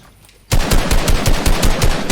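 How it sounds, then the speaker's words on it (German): Rapid automatic gunfire in the video game Fortnite, a loud burst of close rhythmic shots that begins abruptly after a brief quiet moment and continues steadily to the end, with no voices. "Ey, wer schießt auf ihn, Digga?"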